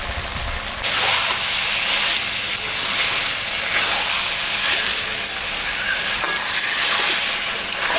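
Chicken pieces and drumsticks sizzle and fry in a spiced, cooked-down masala, producing a loud steady hiss with bursts of crackling as the meat is stirred in the pan.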